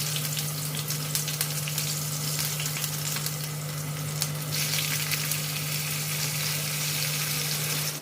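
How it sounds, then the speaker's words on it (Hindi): Potatoes and cauliflower sizzle steadily as they are tempered in hot oil, a continuous crackling hiss over a low steady hum. "यहाँ पे मैंने आलू गोभी की सब्जी छौंक दी"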